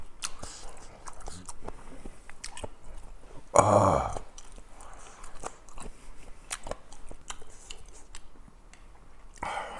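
Someone eats fermented skate samhap, with close, wet chewing and crunching bites and one louder burst in the middle, with no talking.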